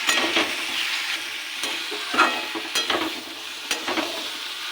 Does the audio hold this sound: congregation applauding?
no